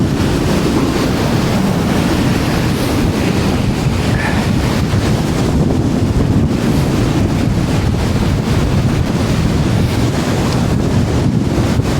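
Storm Floris blasts a seafront with a dense, unbroken roar of gale wind buffeting the microphone and crashing waves, loud and close throughout, with no speech.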